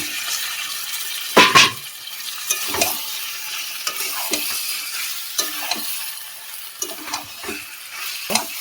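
Potatoes and snake gourd are stirred and fried in spice paste for an egg curry, giving a steady close sizzle punctuated by repeated scraping stir strokes of a spoon against the pan.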